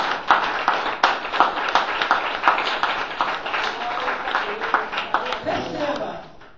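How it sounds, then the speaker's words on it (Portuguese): Church congregation clapping in praise, a steady run of sharp claps across the room with overlapping voices, the clapping thinning out toward the end. "as palmas louvam o Senhor."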